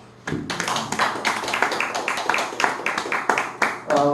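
A lecture audience claps at the end of a talk on Korean astronomy, a burst of rapid, sharp clapping that starts abruptly and carries on steadily.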